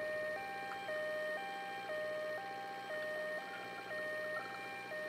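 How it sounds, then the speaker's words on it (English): Ambulance siren in the video game Ambulance Simulator, a two-tone electronic wail alternating high and low in a steady, even rhythm for several cycles, clean and moderately quiet with no talk. "And my siren."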